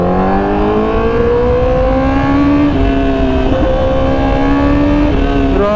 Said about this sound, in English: Nakahinga lang mabuti yung engine.